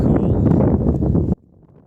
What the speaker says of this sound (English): So it would have been pretty windy to stay here